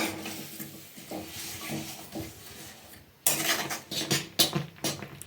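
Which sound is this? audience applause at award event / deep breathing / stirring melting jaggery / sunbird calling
stirring melting jaggery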